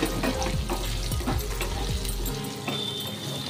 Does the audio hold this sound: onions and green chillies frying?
yes